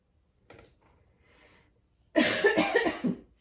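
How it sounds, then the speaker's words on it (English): After a few faint rustles, a single person gives a short burst of close, loud coughing, two or three hacking pulses in quick succession. "already I want to cough again"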